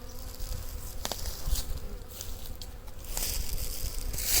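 A strong honeybee colony, clustered in its hive in mid-February, hums with a dense, continuous buzz heard up close. The drone swells slightly louder toward the end, with a few faint clicks and no voices.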